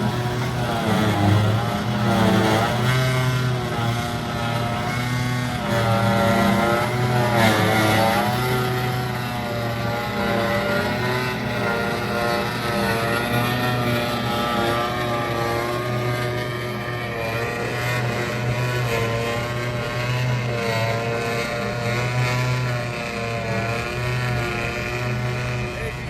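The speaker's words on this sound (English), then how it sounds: "That lovely noise you're hearing is all of the knives spinning around." A continuous, loud mechanical whir from a hay mower's spinning cutter knives runs steadily throughout, with shifting engine tone and a faint voice under the noise.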